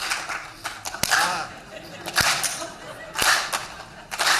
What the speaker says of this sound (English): I was kind of hoping you were going to get them to clap